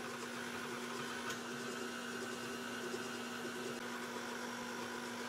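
Electric mixer slowly working donut batter of flour and liquid into a smooth mix: a quiet, steady whirring hum with a constant motor tone, no voices.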